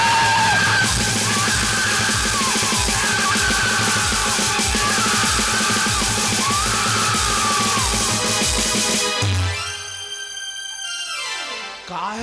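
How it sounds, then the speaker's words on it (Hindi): A man yells loudly and at length during a Chhattisgarhi nacha comedy stage show. The shout sits over a dense, steady musical backing before cutting off near the end. "काहे चिल्लाते रे"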